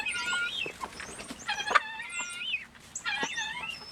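Several hens cluck and squawk close by at feeding time, a busy run of overlapping clucks and rising calls with short pauses between bursts.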